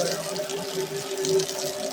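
Water running steadily from a tap into a vessel being filled for Saraswati puja decoration, a close, continuous splashing gush with a rising filling tone and no talk over it.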